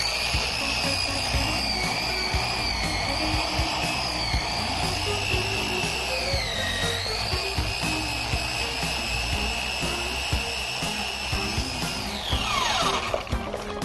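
A machine polisher spins its pad against a terry cloth towel to clean off residue, giving a steady close high-pitched motor whine that dips briefly in pitch and then winds down at the end.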